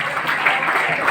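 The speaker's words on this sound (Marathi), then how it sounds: "जोरदार टाळ्या वाजवल्या विद्यार्थ्यांनी." Students clap together in a dense burst of applause at a school felicitation ceremony, loud and close. The sound is a short, even patter with no break, and a voice may murmur underneath.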